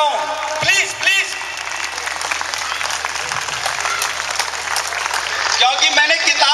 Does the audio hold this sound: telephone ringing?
no